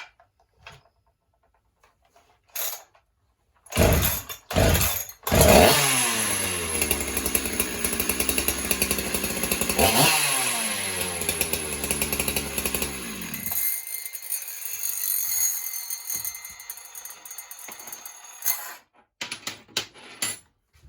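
A Husqvarna 372 XP clone chainsaw is pulled over a few times, catches and runs loud, with revving and idling for several seconds. It then cuts out, leaving quiet and a few small clicks.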